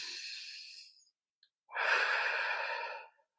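Slow, deliberate breathing during a mindfulness exercise: a soft exhale fading out, a pause, then a long, airy breath, close and quiet.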